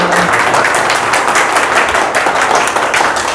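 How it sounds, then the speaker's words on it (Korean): Lecture audience at a graduate school lecture-series discussion applauding a housing minister, a dense, steady crowd clapping that stays loud and continuous throughout. "오늘 수고해 주신 변창흠 장관님께 박수로 감사의 인사를"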